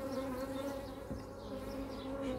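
Honey bees swarm around an open hive during UK beekeeping, a steady close drone of many wings with a constant pitch and no pauses or voices.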